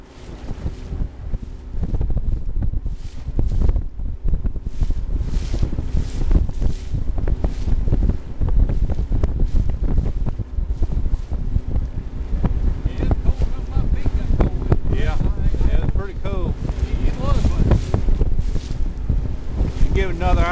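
Strong wind gusts roar across Reelfoot Lake, buffeting the microphone from a boat with constant loud rumbling, while people talk faintly under the noise.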